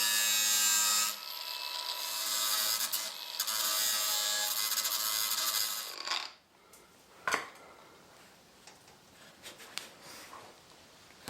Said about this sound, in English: so here's the grinder portion